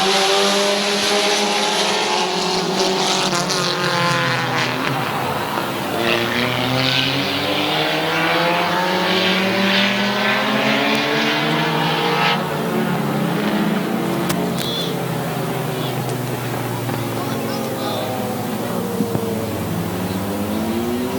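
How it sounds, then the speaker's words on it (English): Compact race cars running an eight-lap heat race at Midvale Speedway: a pack of engines roaring continuously, revving up and down as cars pass close, loud and sustained throughout. "Eight-lap heat race number 4 is underway."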